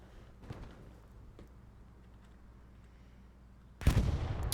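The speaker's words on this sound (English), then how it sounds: "Artillery rounds coming in." An artillery shell lands in Hell Let Loose at Omaha near Vierville-sur-Mer, with faint distant thumps early on and then a single loud, close blast that rumbles on.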